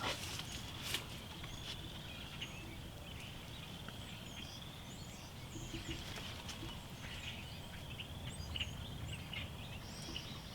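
Wild turkeys gobble in an outdoor Nebraska field, several gobblers and strutting toms calling in scattered bursts at a distance over a quiet, steady background.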